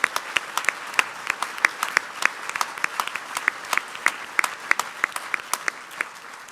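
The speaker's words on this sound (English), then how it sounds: "Can we just give them all another round of applause?" Audience applauding award recipients at a distinguished alumni ceremony, a steady roomful of clapping with sharp individual claps standing out, sustained throughout with no talk.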